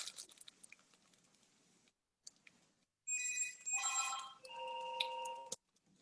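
Telephone ringing in a quiet room, two bursts of bright electronic ringtone following some faint scattered clicks and rustles.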